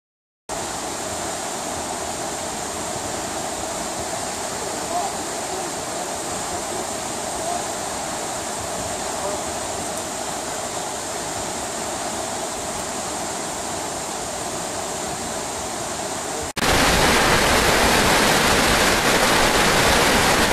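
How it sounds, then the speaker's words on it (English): La Tourette Falls in the Columbia River Gorge pours in a constant broadband roar, loud and steady, rising abruptly in the last few seconds as the water comes closer or louder. "there's that waterfall."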